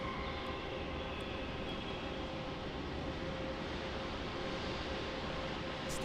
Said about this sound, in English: Qantas Embraer about to touch down here on runway 16